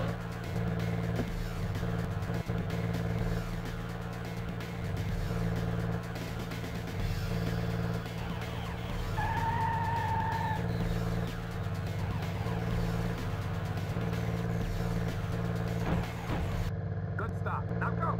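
Car engine droning steadily in the PS1 game Urban Chaos during a driving challenge, holding a constant pitch with shifts as the car brakes and pulls away again, with a brief higher tone midway.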